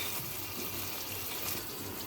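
Half a glass of water poured into a pan of chili sauce and spices while making a restaurant-style gola kabab sizzler, giving a steady, close splashing stream that runs throughout.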